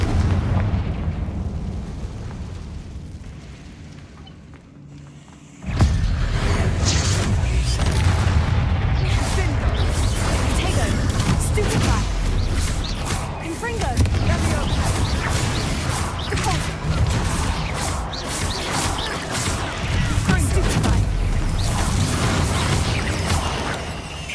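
In the Hogwarts Legacy video game, a Confringo spell detonates with a sudden loud blast that gives way to a dense, crackling rumble of debris and sustained in-game noise lasting many seconds.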